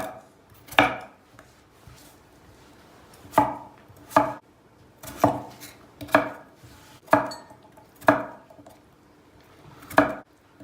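A knife chops potatoes into cubes sharply against a cutting board, about nine distinct strokes at a slow, irregular pace, close and clear with quiet in between.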